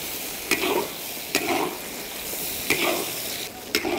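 Sausage with garlic sprouts is stir-fried with bean paste in a wok, Sichuan style, making a strong, continuous sizzle broken by five sharp spatula scrapes at a fairly regular pace.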